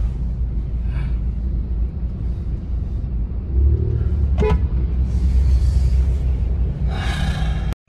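Car horns toot briefly on a congested Jakarta street in a traffic jam, over a steady low rumble of idling and crawling vehicles nearby.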